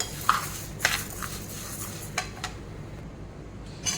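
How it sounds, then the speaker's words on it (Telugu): Cumin and coriander seeds frying in a pan, stirred with a utensil that gives a few sharp clinks and scrapes against the metal over a faint low sizzle. "వీటితో పాటు మనము జీలకర్ర ధనియాలు కూడా వేసి ఫ్రై చేసుకున్నాము వీటిని కూడా బాగా కలుపుతూ ఫ్రై చేసుకోవాలి"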